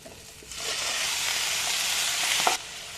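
Shallots, okra, potato and green chillies are sautéed in a pan for theeyal. A loud, steady sizzle starts after half a second and holds evenly before cutting off near the end.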